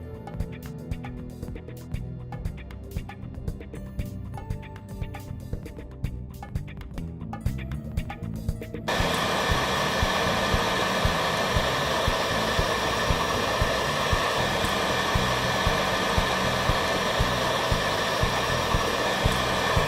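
A heat gun runs near and loud on 1/2 inch heat shrink tubing over wires, switching on partway through into a strong steady blowing roar after a quieter stretch of low hum and faint clicks.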